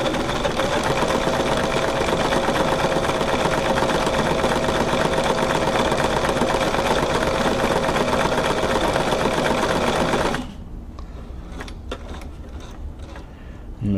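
A Brother VX757 sewing machine running a stitch test after reassembly, stitching in a fast, even, continuous whir for about ten seconds before stopping abruptly, leaving quiet handling clicks.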